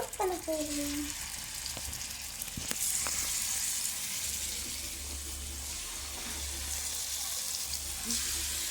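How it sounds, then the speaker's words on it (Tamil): Marinated chicken cooks in a pan at home, with a moderate sizzle and hiss running throughout, punctuated by a few sharp knocks and utensil clatters near the start. "இப்போ நம்ம மேரினேட் பண்ண சிக்கனை இதில் போட்டு நம்ம குக் பண்ண போகிறோம்."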